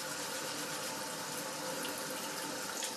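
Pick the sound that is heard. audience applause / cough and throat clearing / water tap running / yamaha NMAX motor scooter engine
water tap running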